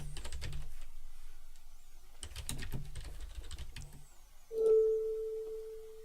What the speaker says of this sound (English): I'm typing that in.